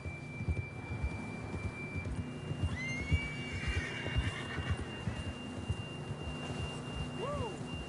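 A horse whinnies in Red Dead Redemption 2, one short, fairly close neigh near the end amid game ambience with a steady tone and soft hoofbeats.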